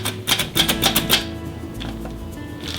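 Peanuts chopped in a handheld food chopper: a quick run of sharp, rhythmic plunging clacks, about five close hits, then a quieter pause and a softer knock at the end.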